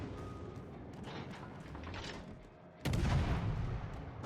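Naval gunfire from warships in World of Warships Legends, with a steady rumble of booming salvos through the first stretch and then a sudden louder, heavier barrage that holds to the end.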